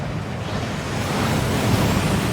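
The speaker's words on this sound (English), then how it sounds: "That waterfall washes away all enchantments" A waterfall at Gringotts in Hogwarts Legacy rushes as a steady, dense roar of falling water that swells slightly louder toward the end, with no voices.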